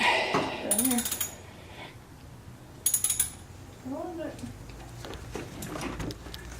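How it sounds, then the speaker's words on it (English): Ratchet working loose an intake bolt on a new Subaru WRX, quick bursts of clicking pawl close up between stretches of quiet shop noise, with a person talking in the background. "So there's that bolt that she's unscrewing now."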